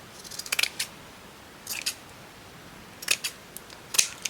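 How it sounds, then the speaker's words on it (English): Scissors snip through scrap lace in four quick bursts, each a cluster of crisp, close metallic cuts separated by brief quiet pauses. "Then I'm going to cut these bits around."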